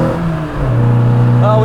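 A 1968 Morris Mini Cooper S MKII with a close-ratio gearbox accelerating, its engine note rising in pitch and dropping at a gear change before climbing again, loud and close, with a voice over it.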